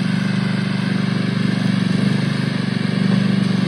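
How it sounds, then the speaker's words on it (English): A zero-turn lawn mower runs steadily in a berry patch near elderberry bushes, its engine giving a loud, constant low drone with a slight pulsing throb throughout and no voices. "This is our new zero turn. It's been put to good use."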